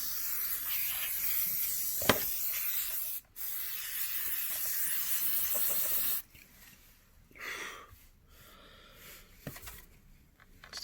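Aerosol spray hisses in steady, close bursts while blowing dust off a PlayStation 4 console. A long blast with a brief break is followed by quieter, scattered hissing.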